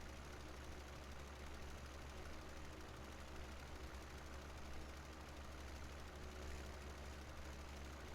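A tractor engine drones low and steady in a farming video game, a continuous faint rumble with a slight knocking quality and no talk over it.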